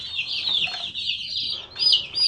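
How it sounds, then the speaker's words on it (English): Farm chickens cluck and squawk in high, continuous chatter while being handled and weighed, close by, with sharper calls near the end. "Let's weigh a few birds, and then we'll go around and lay eyes on everybody"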